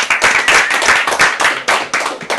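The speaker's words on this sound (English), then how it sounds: "I want a nice round of applause for Quayshaun Carter." An audience claps for a guest on an interview show, loud, close, fairly rhythmic hand claps in quick bursts, with no talk over them.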